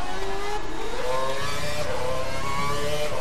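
Race car engine in a Formula racing video game set at Abu Dhabi, a loud continuous whine with rising and falling revs as the car accelerates and shifts, close and constant, no talk.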